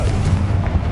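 A brief, loud Confringo fire blast from Hogwarts Legacy, a dense, close roaring boom held for about a second.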